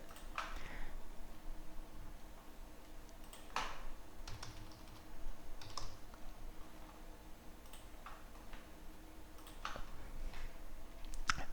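Steady typing on a computer keyboard, quick bursts of close key clicks with short pauses, nothing else over a quiet room hum.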